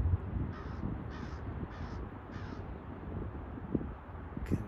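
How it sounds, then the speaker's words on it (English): Crows perched on a street lamp in Calgary give four harsh caws in a steady series, fairly close against a soft outdoor hum. "Can hear the noise they make. The walk and flight of the crow."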